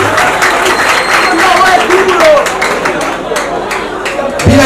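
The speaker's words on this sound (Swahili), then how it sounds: "Mpige maire de la ville makofi kwanza" A crowd claps for the town mayor at a football final trophy ceremony, a loud sustained patter of many hands with voices mixed in.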